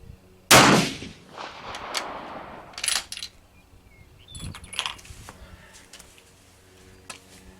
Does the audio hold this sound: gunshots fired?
yes